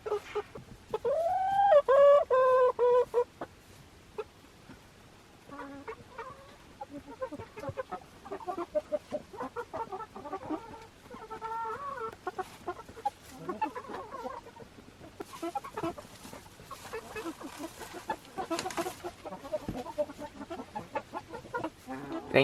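A Red Star hen vocalizes from her nesting box on a chicken porch, giving a loud rising run of calls near the start, then a steady stream of softer, repeated clucks close by.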